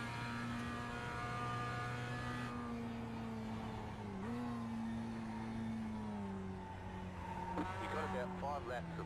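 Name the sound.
race car driving and bottoming out, racing video game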